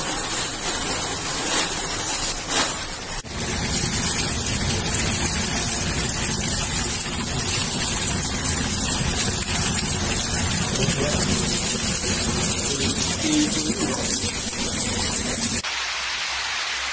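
Heavy rain pours down in Tashkent as a dense, steady hiss of drops striking surfaces, loud and unbroken for most of the stretch before cutting off abruptly near the end.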